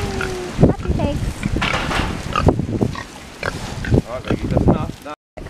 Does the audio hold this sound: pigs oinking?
yes